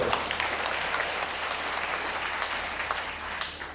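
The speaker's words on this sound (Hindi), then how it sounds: "मैं इसको ताली लगाता हूं।" Steady, full applause from a large audience at a live religious gathering at Pandokhar Sarkar Dham, continuous and even throughout with a low hum beneath.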